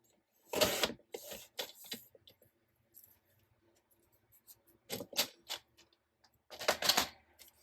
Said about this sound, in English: I'm just going to hand trim this off, well, with my trimmer.